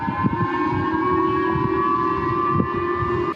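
A civil defense alert siren sounds in Okinawa, warning of a North Korean missile launch: a steady, sustained wailing tone that holds level throughout with no voices.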